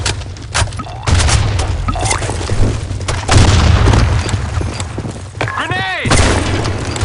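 Grenades explode in the Blackshot shooter game as several heavy booming blasts spaced a couple of seconds apart, each trailing a low rumble, mixed with game voice callouts.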